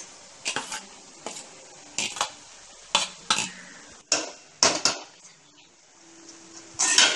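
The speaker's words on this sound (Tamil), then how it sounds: "இது நல்லா கலக்கணும் ரைஸ் வந்து உடஞ்சிடாம நல்லா சாஃப்டா கிண்டணும்" Basmati rice being stirred in a pan for fried rice: about eight distinct scraping strokes of a spoon against the metal, close and fairly loud, separated by short quiet gaps.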